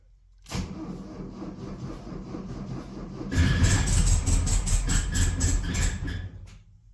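A classic car or tractor engine cranks with a fast rhythmic churn, then catches and runs rough and loud with regular pulsing firing beats before cutting off near the end.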